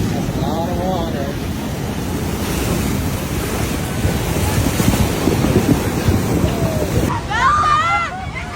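Big ocean waves surging and crashing on the California coast with heavy wind buffeting the microphone; excited voices shout at the start and near the end.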